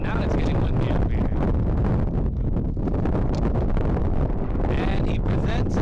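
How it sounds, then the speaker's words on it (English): Wind buffets the microphone at an outdoor high school varsity baseball game, a loud continuous rumbling roar with gusty fluctuations throughout. "And now it's getting windy up here."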